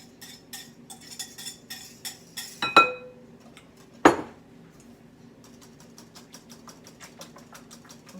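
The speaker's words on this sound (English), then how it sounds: "And then we're going to whisk in 5 eggs." A whisk beats eggs and cream in a bowl with quick, light, rhythmic clinks against the side, broken by two louder knocks, close and fairly quiet with no speech.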